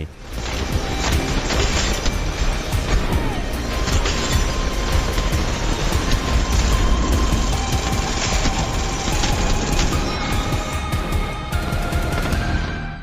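Rampart's mounted machine gun, her ultimate, firing in Apex Legends: a dense, continuous stream of loud rapid gunfire with booms, sustained for the whole stretch without pause.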